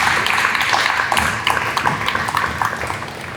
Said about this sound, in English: I think there's a round of applause coming from the audience for my 6 guests